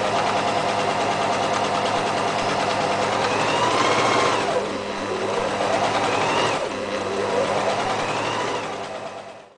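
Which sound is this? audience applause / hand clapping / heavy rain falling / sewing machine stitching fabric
sewing machine stitching fabric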